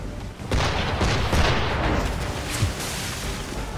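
Ship cannons boom in an Assassin's Creed III naval battle against an English frigate, a dense rolling barrage of heavy blasts and rumbling broadside fire, loud and continuous throughout with no clear gaps.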